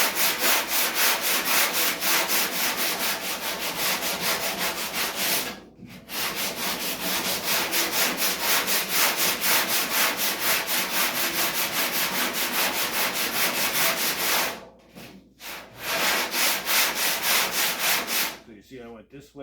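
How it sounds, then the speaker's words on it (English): Hand sanding bodywork filler on a 1951 Chevy car door, rapid rhythmic back-and-forth rasping strokes, loud and close, pausing briefly twice before resuming. "So I'm going to sand this real quick"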